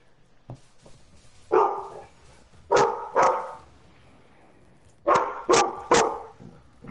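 Several dogs bark in short bursts, a lone bark early followed by three clusters of loud, close barks separated by brief pauses, with faint background noise and no talking.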